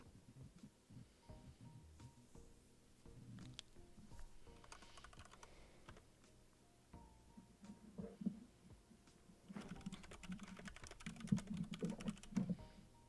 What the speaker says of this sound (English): I got a new keyboard, so y'all can hear me typing extra loud now.